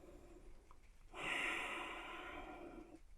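During a yoga session, a single long, slow breath out through the mouth, close and soft, swells then fades over a couple of seconds against a quiet room.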